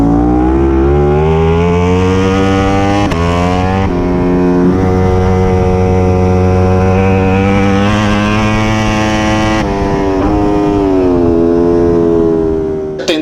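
A Ducati Streetfighter V4 SP and rival bikes racing down the long straight at Cremona circuit, engines screaming loud and close with sustained high revs and sharp gear shifts.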